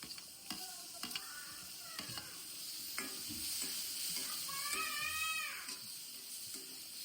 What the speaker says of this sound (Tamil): கரம் மசாலா நல்லா பொரிஞ்சு வந்ததும் கட் பண்ணி வச்சு ஆனியனை இதை சேர்த்துக்கிறேன்.